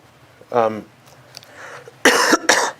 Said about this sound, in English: I will try to keep coughing to a minimum